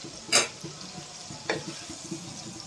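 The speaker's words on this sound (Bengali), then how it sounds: "ভালো মতো মশলাটাকে কষিয়ে নিব।" Spice paste for a poa fish curry with ginger paste and salt sizzles in a pan, with two sharp stirring scrapes over a low steady fry, close and fairly quiet.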